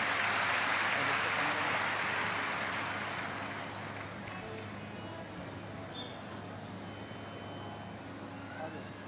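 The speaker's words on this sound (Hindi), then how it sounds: "जोरदार ताली।" Broad applause from a large audience at a live Shiv Mahapuran religious discourse in Sehore swells loudly for the first few seconds, then fades into a softer, steady crowd murmur.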